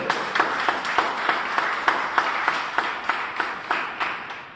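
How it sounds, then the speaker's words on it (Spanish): A church congregation applauds, a dense, even wash of many hands clapping at once, loud and sustained for several seconds with rhythmic peaks, no speech over it. "¿Cuántos podrían dar un aplauso al Señor Jesucristo?"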